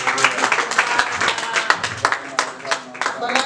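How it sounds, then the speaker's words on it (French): A church congregation breaks into applause for the word of God, a dense, steady clapping that rises and falls in waves close by. "Est-ce qu'on peut applaudir pour la parole de Dieu?"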